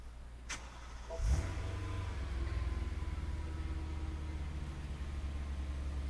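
BMW E9X M3 with a titanium exhaust, valves closed, starting with a brief rising burst that settles into a steady, loud low idle rumble.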